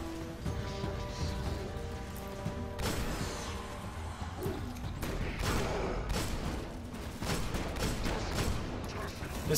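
Gunfire in the video game Destiny, repeated loud blasts and crashing impacts over a dense background of game effects and music, with someone talking at points.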